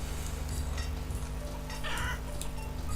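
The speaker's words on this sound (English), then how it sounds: "There's a load of chickens in there." Chickens cluck softly in the farming strategy game Banished, a few faint calls set against steady ambient game noise with a low rain-like hiss throughout.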